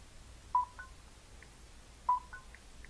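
Two short bursts of phone keypad tones while texting, each a quick cluster of beeps about a second and a half apart, faint over a low background hum.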